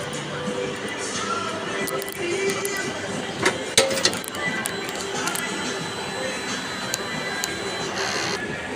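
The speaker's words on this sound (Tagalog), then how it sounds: "Mag-head clean po tayo." A printer runs a print head cleaning cycle on a recently fitted brand-new head, giving a steady mechanical whir with scattered clicks and a few sharper clunks midway.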